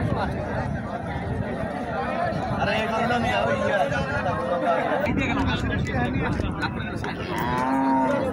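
Cows moo repeatedly at a busy cattle market in Comilla, Bangladesh, loud and close over constant crowd chatter and hubbub, with a long rising low call near the end.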